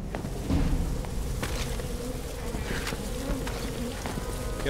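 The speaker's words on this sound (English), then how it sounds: "Bee man. Bees are coming." A swarm of bees in Resident Evil 6 gives a dense, continuous buzzing drone that stays loud and close throughout, with scattered sharper game noises mixed in and no talk.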